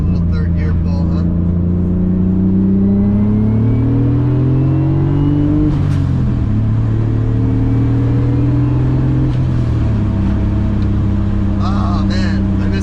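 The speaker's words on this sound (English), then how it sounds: "Let's go into third, do a little third gear pull, huh?" A turbocharged 1993 BMW E34 makes a third-gear pull, its engine note climbing steadily and loudly from inside the cabin, dipping briefly midway before rising again.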